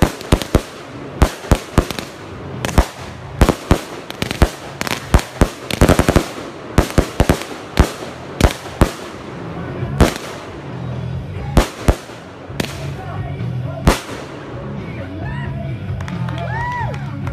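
Loud Fourth of July fireworks bang in rapid, irregular bursts, crackling one after another, with a crowd faintly shouting and cheering underneath.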